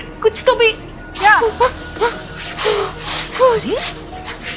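A young boy cries in distress indoors, with sharp gasps, whimpers and wavering sobs in uneven bursts. The crying is close, loud and mixed with strained vocal sounds.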